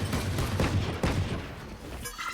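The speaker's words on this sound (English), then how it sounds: "Neon holding with the judge, and you see Sam's gonna peek in with the knives" In a Valorant esports match, Judge shotgun fire sounds as a dense burst of rapid gunshots, loud and close, with a fast irregular rhythm over about two seconds.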